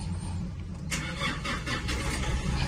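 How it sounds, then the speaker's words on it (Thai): A car engine cranks and catches after being started with a newly made remote key replacing lost ones, then runs steadily at a close idle with a broad low rumble and some light handling noise. "เราสตาร์ทด้วยแจรีโมทตัวใหม่เลยนะครับ"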